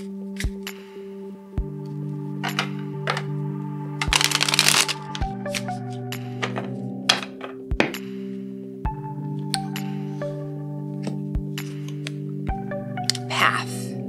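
Oracle cards are pulled and handled in a series of crisp snaps, flicks and riffling shuffles, close and fairly quiet, with a steady hum underneath.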